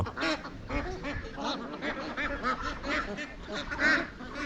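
A flock of white ducks at the edge of a green school field, quacking busily in overlapping calls at moderate distance, with no talk.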